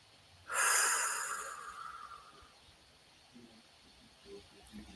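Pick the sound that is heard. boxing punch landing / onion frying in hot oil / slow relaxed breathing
slow relaxed breathing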